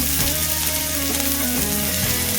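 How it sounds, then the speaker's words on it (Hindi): Paneer fries in a hot pan with a constant, dense sizzle that holds loud and even from start to finish, joined by a steady tonal hum. "अच्छे से पनीर को फ्राई करेंगे।"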